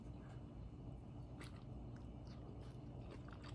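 Someone eats malunggay pods and sweet potato at breakfast, soft close chewing and a few faint crunchy bites over a quiet background, with no talk.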